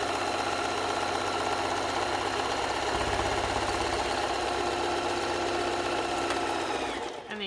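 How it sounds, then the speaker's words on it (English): A sewing machine zigzag-stitches down one edge of a folded fabric pressing pillow cover. It runs loud and continuous at a steady rapid rhythm for several seconds, then stops abruptly at the end. "I'm going to zigzag stitch right down one edge."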